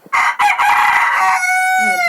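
A rooster crows loudly and close by, one long strained cock-a-doodle-doo that trails off into a wavering end.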